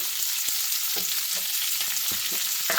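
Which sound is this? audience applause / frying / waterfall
frying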